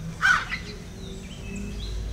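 A crow gives one harsh, loud caw near the start, then a softer second call, leaving a low ambient hum afterwards.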